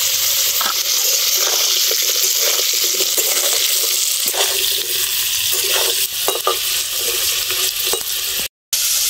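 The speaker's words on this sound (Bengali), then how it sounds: "ফুলকচু ভাজা হয়ে গেছে, এবারে নামিয়ে নেব।" Pieces of elephant foot yam sizzle and crackle in hot oil in a pan, a loud steady frying hiss with occasional stirring clicks, briefly cutting out near the end.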